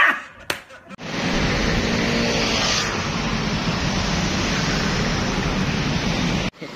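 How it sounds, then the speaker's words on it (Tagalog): Steady, loud roar of dense bumper-to-bumper traffic on EDSA, a broad wash of engine and road noise lasting several seconds after a brief handling thump, with no clear talking. "Bumper to bumper ang traffic."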